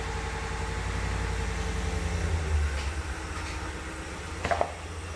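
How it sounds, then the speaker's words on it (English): A car fitted with winter tire chains pulls out of a garage: a low engine rumble hums steadily and then eases off, with a few brief clinks near the end. "I'm going to drive this out of the garage and see if things tighten up with the wheels moving."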